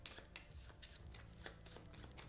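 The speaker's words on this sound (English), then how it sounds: "Shuffle these really good." Playing cards being shuffled for a solo tabletop game of Shadowrift, a run of crisp papery riffles and snaps repeating through the clip, fairly faint and close, with no talking.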